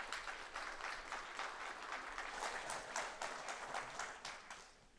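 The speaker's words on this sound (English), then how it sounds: "Let's give them a round of applause" A conference audience claps for the incoming speakers at a security event, the applause faint and distant, rising and holding through the middle before thinning out toward the end.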